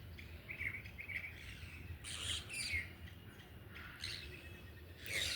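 Sparrows chirping in a rooftop garden among leafy greens grown for them to feed on, with several bursts of short, bright tweets over steady low background noise, moderately close, no speech.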